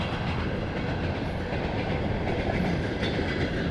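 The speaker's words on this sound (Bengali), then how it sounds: "দেখতে পাচ্ছেন এখানে ট্রেন যাচ্ছে সুদূর প্রান্তে ট্রেন চলে যাচ্ছে" A train rolling past on the rails in rural Kazakhstan farmland, a dense continuous rumble and clatter that holds steady and loud for the whole stretch.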